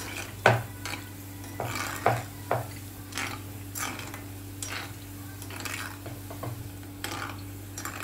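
A slotted ladle stirring shankarpali as they fry in oil, with soft sizzling under light metallic scrapes and taps of the ladle against the pan, repeated at irregular intervals, close and quiet.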